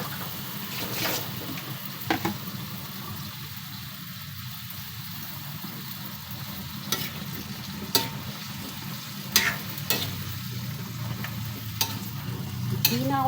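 Pakbet vegetables with fish bagoong cook in a pan, sizzling steadily up close while a utensil stirs and scrapes now and then in sharp intermittent clacks.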